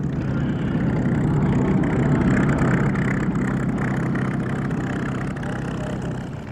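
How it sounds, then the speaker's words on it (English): A Messerschmitt Bf 109 fighter with its Daimler-Benz engine runs at an air show, a loud, steady, rumbling drone close by that holds almost unchanged throughout and eases slightly near the end. "This is the most original surviving 109 with the powerful Daimler-Benz engine."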